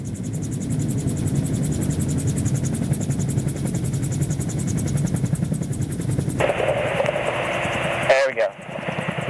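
An MTO Sport autogyro comes in to land, its engine and rotor giving a steady loud droning buzz that shifts near the end, with a brief dropout of sound just before the close.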